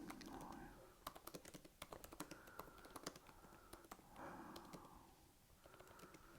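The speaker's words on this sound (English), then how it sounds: "So let me just type this in." Light clicking keystrokes on a laptop keyboard tap out in quick irregular runs, close but quiet, while a low cooing hum rises and fades in the background.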